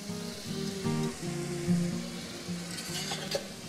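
Tomatoes frying in a pan with onions being added, a steady close sizzle and crackle with soft stirring bumps throughout.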